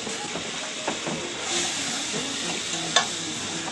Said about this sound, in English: you get 2 sticks of butter going on a pretty high heat